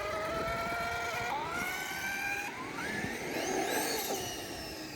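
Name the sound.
belt drive noise of a Traxxas X-Maxx RC truck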